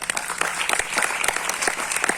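Dense applause from a seminar audience at a company business presentation, many hands clapping steadily and close with no voices over it.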